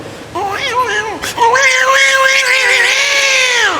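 A voice mimics fighting cats with yowling, wavering wails and a sharp screech, rising into a sustained caterwaul, loud and up close, at the Dhutpapeshwar temple in Rajapur.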